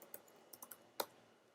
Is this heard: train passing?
no